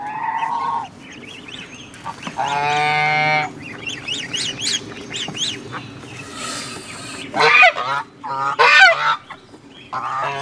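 A male Chinese goose lets out a series of loud, nasal honks, some in quick bursts and some drawn out, close by with pauses between calls.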